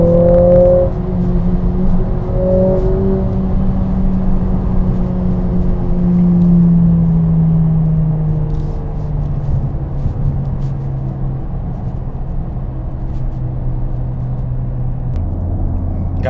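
A 2020 Mercedes A45s AMG accelerating quickly, engine tone climbing steeply through the gears before settling into a lower, steady drone; close and fairly loud, with no voices.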